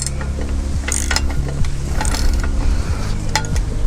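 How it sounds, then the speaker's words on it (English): Ratchet wrench cranked hard to loosen a tight mountain bike part, a steady run of dense mechanical clicks with sharp metallic ticks, close and loud, with no talk. "So I'm really cranking this thing to get it off."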